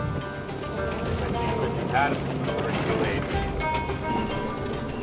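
Loose track pad bolts on an excavator track rattle and clank in an irregular mechanical clatter, steady and fairly loud over engine rumble, with people talking throughout.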